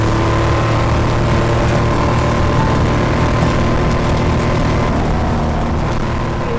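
Porsche 2.5 litre twin plug racing engine on 46 Webers running steadily nearby, a loud, dense and continuous mechanical roar with no pauses or voices.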